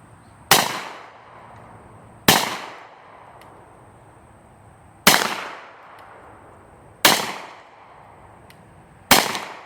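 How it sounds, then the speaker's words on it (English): Kel Tec Sub 2000 carbine in .40 S&W firing at cans outdoors, five sharp loud shots spaced a couple of seconds apart, each with a fading echo tail, close and without talk. "Okay, we're just going to shoot those cans again."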